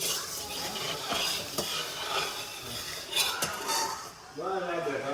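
Spices sizzle and crackle in hot oil as a tempering for kadhi in a home kitchen, with a spoon stirring and scraping against the pot. The sound runs steadily throughout, and a voice speaks near the end.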